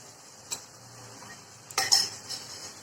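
Eggs stirred into boiling egg curry gravy, with a soft clink early on and then a burst of scraping and clattering utensil against pan, close and brief, over a faint simmer.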